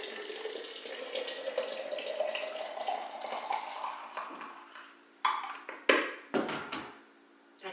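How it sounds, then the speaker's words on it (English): Hot water poured into a teapot holding dried herbs, a rising gurgling stream that fills the pot, then a few clinks and brief splashes as pouring stops, close and quiet. "And then I'm gonna pour hot water in it."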